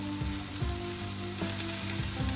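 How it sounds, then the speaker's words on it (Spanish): Chopped onion sautéing in a frying pan, a steady loud sizzle that runs without a break, with a few faint scrapes of stirring and no voices. "vamos a poner en la sartén un poco de cebolla, bueno, la cebolla que hemos cortado, y lo vamos a saltear"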